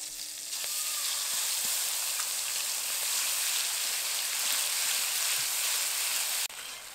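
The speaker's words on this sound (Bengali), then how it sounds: "সর্ষেটাকে কিছুক্ষণ নেড়েচেড়ে নিয়েছি" Mustard paste sizzles and fries steadily in hot oil with nigella seeds and slit green chilies, stirred now and then, a dense even crackle close up with no voices, cutting off near the end.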